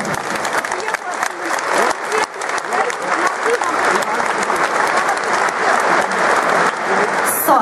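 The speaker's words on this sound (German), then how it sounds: "Applaus darf natürlich sein" Sustained crowd applause fills a hall at an FPÖ New Year meeting at the Pyramide Vösendorf, dense steady clapping throughout with some crowd noise mixed in.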